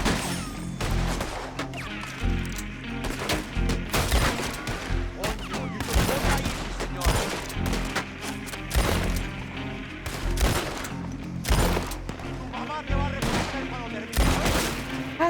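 Gunfire in Red Dead Redemption 2 during a fight with coyotes, rapid loud shots cracking repeatedly in irregular bursts throughout, with speech mixed in among the blasts.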